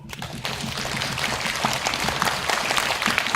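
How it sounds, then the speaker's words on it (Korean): Students at a science competition receive applause, a broad wash of many hands clapping that swells after a brief start and holds steady, with a low murmur of voices underneath. "박수!"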